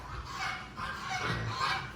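Geese honk faintly in a farmyard in Fort-Dauphin, Madagascar, a few soft nasal calls over low outdoor background noise with no talking.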